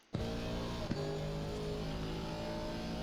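Race car engine in Assetto Corsa Competizione on a wet Imola circuit, a loud steady high-revving drone that kicks in abruptly, with a brief gear-change blip then sustained power, close and continuous.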